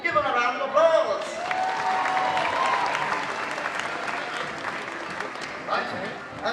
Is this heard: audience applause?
yes